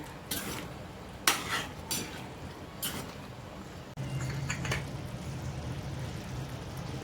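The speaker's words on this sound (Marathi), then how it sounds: "आता ह्याच्यात आपण हे बटाटे टाकूया फ्राय केलेले सगळं मिक्स करून घ्यायचं आहे" A utensil scrapes and clinks against a pan as fried potatoes are stirred into boiling gravy, with a few sharp metallic knocks early on followed by a low, steady bubbling simmer.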